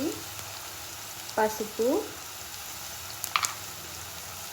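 Onion, ginger and garlic frying in a pan for a ridge gourd dish, a steady low sizzle running underneath while someone speaks briefly and a few utensil scrapes and clicks break through.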